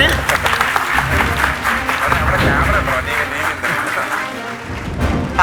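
An auditorium audience claps in a dense, continuous burst of applause lasting several seconds, with voices talking over and through it.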